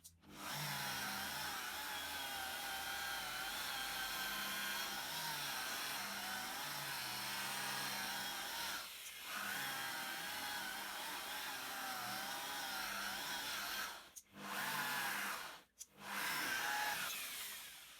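A Turtle Wax car polishing machine buffing vehicle bodywork at low speed, a steady whirring motor drone held for long stretches with brief cut-offs near the end.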